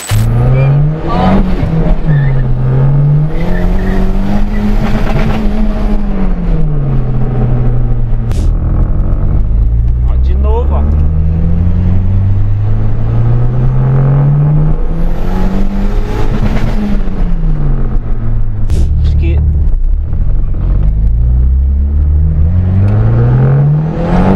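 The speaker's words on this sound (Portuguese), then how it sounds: "Começa aí a dar aqueles famosos pipocos no escape" A car engine tuned with FuelTech revs up and down repeatedly, loud and close, with a few sharp exhaust pops cracking through as the revs drop.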